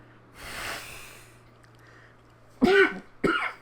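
A commentator on a Pokemon Cup Series race at Pocono coughs and clears his throat: a soft rasp early on, then two sharp, close coughs near the end.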